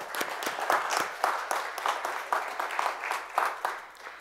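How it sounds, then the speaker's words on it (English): Church congregation clapping in praise during a joint worship service, a moderately loud patter of many hands with uneven bursts and no speech over it. "let's give God a hand clap of praise for that"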